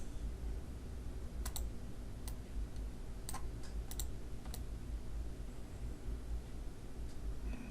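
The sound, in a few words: pressing a key on a computer keyboard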